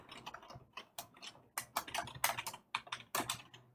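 Typing on a computer keyboard comes in quick, uneven bursts of clicky keystrokes with short pauses between, close and fairly quiet, with no talk.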